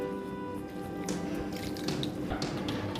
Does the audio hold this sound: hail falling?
no